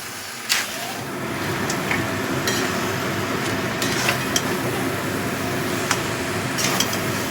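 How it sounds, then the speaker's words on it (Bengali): Fried crabs are stirred into a curry in a wok or karahi, making a steady sizzle with scattered scraping and clinking taps of a metal spatula against the pan, close and fairly loud, no talking. "কাঁকড়াগুলো দিয়েও ভালো করে মিশিয়ে নিচ্ছি।"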